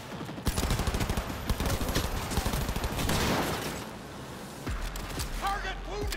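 A firefight in the video game Cyberpunk 2077, with dense bursts of automatic gunfire and scattered shots rattling for several seconds, then easing off as a voice speaks near the end.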